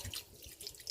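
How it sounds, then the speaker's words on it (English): Lemon juice poured over raw chicken wings, a brief faint liquid trickle and splash heard close up on its own. "Now I'm going to follow suit by using my lemon juice. Right here. Just going to pour it."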